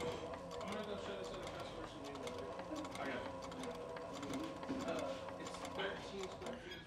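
A leather sewing machine stitches a seam along piping with a continuous, quiet mechanical whir and tick, and a voice talks over it.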